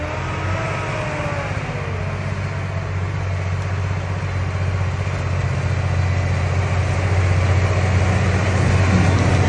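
A heavy roller-crusher works through a freshly cut corn field, giving a steady, loud machine drone with a deep low rumble and constant rough churning noise throughout, no voices.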